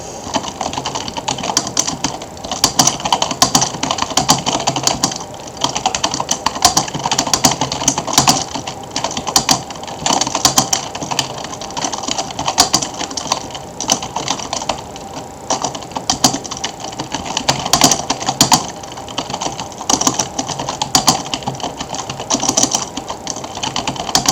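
Fast, continuous clatter of keys on a computer keyboard during a typing speed test, dense rapid clicks running throughout at close range with no talking.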